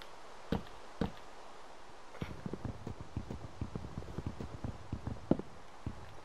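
Horse hooves clip-clop in Minecraft: two isolated hoof knocks, then a steady run of quick, fairly close clops on a hard surface, with no talking.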